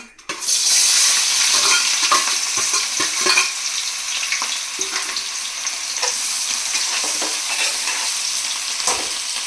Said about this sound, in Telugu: ఈ ఆనియన్స్ కూడా గోల్డెన్ బ్రౌన్ కలర్ వచ్చే వరకు ఫ్రై చేసుకోవాలి.